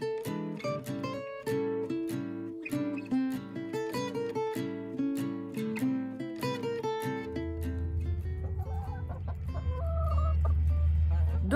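Hens cluck and call in a busy, repeating rhythm close by, then a low humming drone rises beneath the fading clucks.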